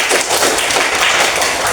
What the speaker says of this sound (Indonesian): Tepuk tangan buat Isra.